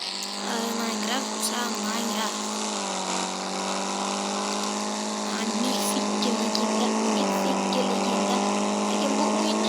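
A Nexia 2 car driving in a video game: a steady, continuous engine drone with shifting pitch and gear-like steps, loud and close throughout, with no talk over it.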